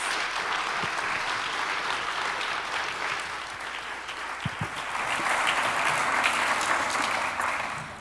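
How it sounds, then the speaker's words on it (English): Sustained, even applause from a large lecture audience for speaker Dorothy Roberts, a broad wash of many clapping hands lasting eight seconds and swelling a little louder partway through, with no talk. "let's give a round of applause to Dorothy Roberts for speaking with us today"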